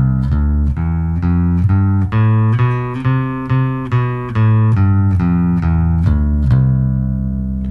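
A bass guitar plays a one-octave major scale with no sharps or flats, climbing note by note and then descending, each pitch plucked clearly and sustained in an even, moderate rhythm, loud and close.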